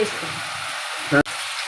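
Cauliflower, ridge gourd, eggplant, squash and potato with black cumin fry steadily in a home pan, a continuous soft sizzle with a brief louder clatter near the end.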